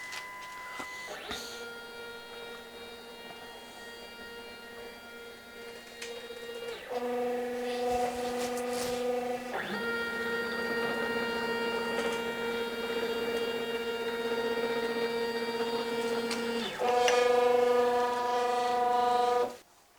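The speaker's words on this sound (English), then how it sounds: "click on the home key until it changes to start, release it, and the machine will start homing." A CNC machine on a Masso controller homing its axes, with steady motor whines stepping between pitches as each move starts and stops, fairly quiet and with no talk.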